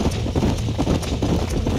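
Horse hooves clip-clop steadily on the ground in Red Dead Redemption, a close, continuous run of quick overlapping hoofbeats heard on their own.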